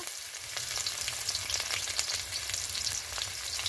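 Cardamom, chopped onion and bay leaf frying in a little oil to start a crab and moong dal dish, a soft continuous crackle with small pops and occasional stirring, close and fairly quiet.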